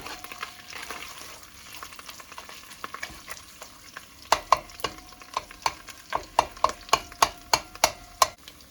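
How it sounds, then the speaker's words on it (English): Tomato paste frying in hot oil, a steady low sizzle under repeated sharp scraping and stirring strokes of a utensil against the pan, the clacks growing louder and more rhythmic in the second half. "So I let the tomato paste fry up a little."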